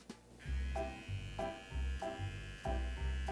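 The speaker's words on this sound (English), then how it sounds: "What was that buzzing noise in there though? Oh, just trimming all the pubes from the cob." An electric trimmer buzzes at low level in short, repeated bursts of steady hum as it works over a corn cob, with brief gaps between passes and no speech.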